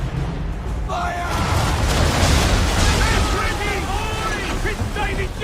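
Ship cannons fire in the video game Assassin's Creed III, heavy booms rolling into a sustained roar of battle, with voices shouting over the blasts throughout.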